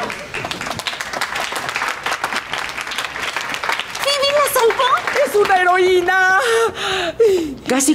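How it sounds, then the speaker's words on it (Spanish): Applause and cheering from a small group swell and continue with overlapping voices and music-like tones in a comedic TV scene. "¡Aplauso para Phoebe!"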